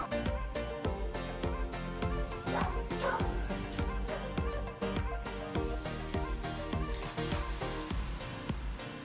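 Puppies at a breeding kennel yip and bark over a dense, steady bed of music, the small high barks mixed in and partly masked.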